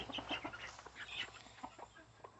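A light brown hen with black-tipped feathers, a sitting hen, clucks in short, soft repeated bursts close by, with faint farmyard bird chatter in the background.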